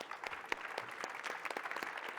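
An audience gives a round of applause to the panelists at a panel discussion, quiet and somewhat distant, with scattered individual claps forming a light, uneven patter.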